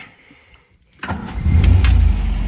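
A 1963 MG B Mk1 roadster cranks briefly after a quiet pause and its engine catches quickly, settling into a loud, steady low idle close by, with no talking.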